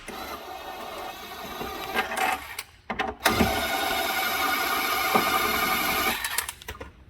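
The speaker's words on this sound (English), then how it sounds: "We're going to loosen the lower bolt for the shock." Power tool loosening the lower front shock absorber bolt on a 2012–2016 Tesla Model S with air suspension, a whirring, buzzing run that pauses briefly and then continues steadily for several seconds, close up.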